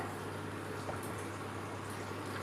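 Continuous bubbling, hissing water at a low level, a pot of water coming to a boil for cooking pearl millet rice, steady throughout with no voices.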